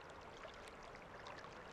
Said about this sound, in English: Oh, that's water.